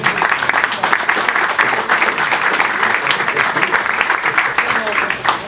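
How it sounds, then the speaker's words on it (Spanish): Conference audience applauding steadily and loudly for about five seconds, a dense, even wash of many hands clapping with no pauses. "para quien también pido un voto de aplausos"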